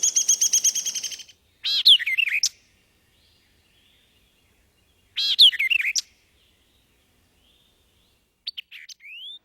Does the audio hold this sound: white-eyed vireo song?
yes